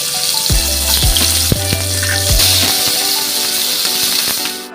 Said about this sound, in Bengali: পেঁয়াজটা একটু লাল করে ভেজে নেব।